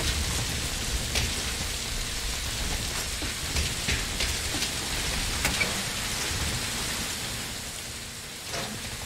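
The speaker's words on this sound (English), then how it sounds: "That rain just won't let up." Steady rain falls in the stealth game Metal Gear Solid 5 Ground Zeroes, a constant hissing downpour with scattered drop patters, holding throughout and thinning slightly near the end.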